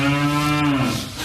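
A single cow lets out a loud, close, sustained moo on a livestock farm in New Zealand, steady for about a second before trailing off, with no voices over it.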